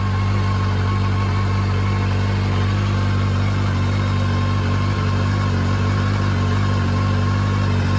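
A 1989 Honda CB1 motorcycle engine runs steadily, a loud, close, even idle with a deep low rumble and no voices over it.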